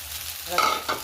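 Soaked sabudana khichdi being stirred in a pan over low heat, giving a short scraping, rustling stir with light sizzle, a couple of louder strokes close by, no talking.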